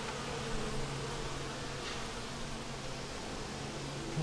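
Honey bees drone continuously at an open hive, a dense, even buzz that stays steady throughout with a low mechanical hum beneath it and no talking.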